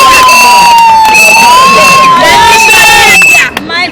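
Wedding guests cheer and whoop loudly as a newlywed couple is celebrated, a dense, continuous crowd roar with shouting voices and a whistle-like tone running through, easing off just at the end.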